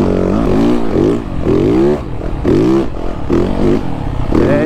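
A Triumph enduro motorcycle engine revs repeatedly in strong, rising-and-falling surges, loud and close, with brief dips between each burst of throttle.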